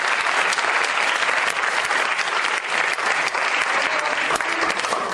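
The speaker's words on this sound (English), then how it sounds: "Now you can clap." Audience at the Prithvi Theatre Festival bursts into sustained, loud applause, a dense crowd of hands clapping continuously throughout.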